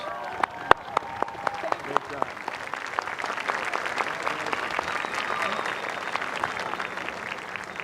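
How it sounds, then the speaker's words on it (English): A graduation crowd at Fitchburg High School applauds its top scholars, scattered sharp claps at first thickening into a steady wash, with talk underneath. "Let's have a round of applause for our 10 top scholars."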